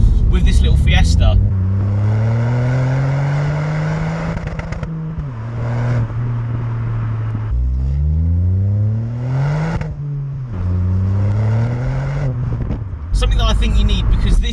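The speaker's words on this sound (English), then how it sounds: "So that opens flaps in the exhaust, all that sort of good stuff" A Ford Fiesta ST engine in sport mode, exhaust flaps open, revs up and down repeatedly through the gears, its exhaust note rising and dropping with a raspy, throaty drone inside the cabin.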